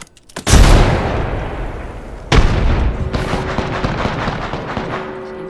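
A frag grenade blasts in Apex Legends, a loud close boom followed by a second heavy explosion and scattered gunfire crackling through the rest of the moment.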